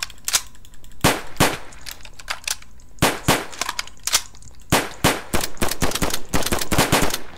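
Assault rifle fire in a video game: sharp, loud shots ring out alone, some in single cracks and others in quick rapid bursts, spaced unevenly across the clip.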